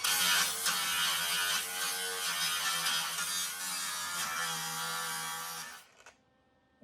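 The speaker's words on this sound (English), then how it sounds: "Give it a little grinding." A power grinder takes rust off the body of a 1968 VW Standard Beetle, a steady loud high whine held close for about six seconds before it cuts off and winds down.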